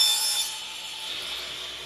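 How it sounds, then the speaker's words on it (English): A tool cuts holes into a bracket for a PC case, a brief high rasping whine that is loudest at the start and then settles into a steadier grind, with no talk. "And then I'm going to cut the holes on this."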